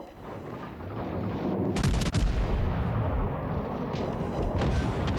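Battleship Agincourt fires heavy gun broadsides in the World of Warships Legends naval game, with deep booming blasts rolling into a sustained rumble and sharper cracks around the two-second mark, and no voices.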